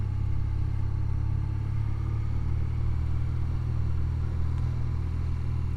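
A 2024 BMW R12 motorcycle's big twin-cylinder engine rumbles low and steady while riding, a continuous, even drone with no voices over it.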